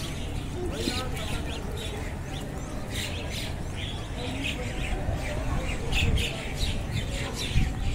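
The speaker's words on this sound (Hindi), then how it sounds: "बहुत सारी चिड़िया बोल रही हैं यहाँ पर।" Many small birds chirp and tweet in a busy, continuous chorus over a broad outdoor hum at the riverside ghats of the Ganges in Varanasi, with no talk.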